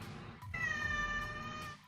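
A house cat gives one drawn-out meow of about a second, close by and fairly loud, with a quiet room behind it.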